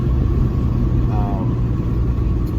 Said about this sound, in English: I'm just gonna drive and like show you guys the exhaust a little bit.